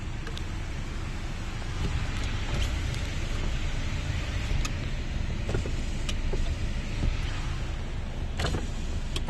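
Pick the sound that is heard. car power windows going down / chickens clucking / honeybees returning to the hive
car power windows going down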